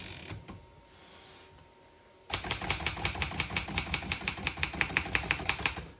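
A 1923 Remington Portable Model 1 antique typewriter being typed on: after a quiet start, a steady run of sharp, evenly paced key strikes clacks close and loud, with no talking.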